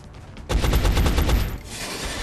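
Rapid burst of automatic gunfire in XCOM Enemy Unknown, a dense string of close, loud shots lasting about a second before trailing off, with no talk.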